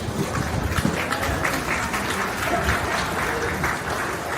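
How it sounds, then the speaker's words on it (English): Steady, dense applause from the audience at a county fair beef show, a continuous wash of many hands clapping with no break across the whole stretch. "Let's give them a round of applause"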